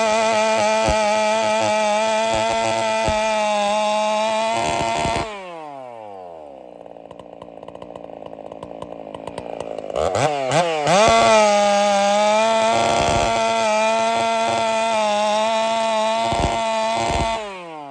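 A race chainsaw with a freshly file-sharpened chain revving loud and close, dropping to a lower idle burble midway, then screaming back up to full throttle.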